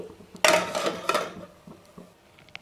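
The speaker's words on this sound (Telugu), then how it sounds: "దీని మీద మూత పెట్టేసి" A metal lid clatters onto a pot of spinach garlic curry, giving one sharp clang followed by a second lighter rattle and a few faint clinks, close by and alone.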